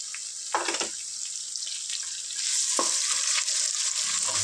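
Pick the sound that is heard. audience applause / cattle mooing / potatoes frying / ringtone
potatoes frying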